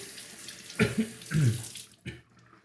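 Tap water splashes onto a Shapton Pro 8K whetstone as it is wetted for razor honing: a few close, short bursts of running and splashing water with brief pauses and no talk.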